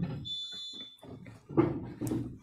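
A fire or smoke alarm sounds with a thin, piercing high tone early on, mixed with muffled indoor voices and clatter, fairly loud and close.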